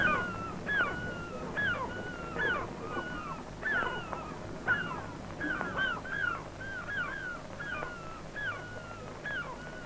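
Many gulls calling repeatedly, harsh rising cries overlapping in a constant noisy chorus, fairly close.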